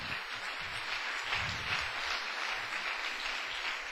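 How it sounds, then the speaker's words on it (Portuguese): A church congregation applauding: steady, dense clapping from many people, moderately loud and continuous throughout, with no other sound over it. "agora você pode dar uma salva de palmas para o Senhor"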